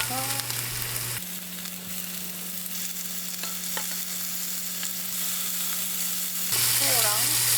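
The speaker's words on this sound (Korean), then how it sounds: "마늘이랑 양파 어느 정도 볶아줬으면 새우 가져와서" Garlic, onion and shrimp frying in a pan give a steady, close sizzle with crackling hiss and occasional stirring scrapes, continuous throughout with no talking.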